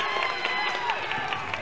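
A home crowd at a girls and boys high school basketball game cheers and claps in a steady, dense roar, with a commentator speaking over the noise.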